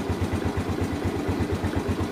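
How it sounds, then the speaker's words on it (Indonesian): A motorcycle engine, electric-started on a revived weak dry battery, idles close by with an even, rapid thumping pulse and no voices. "sekarang motor bisa dinyalakan menggunakan electric starter ya"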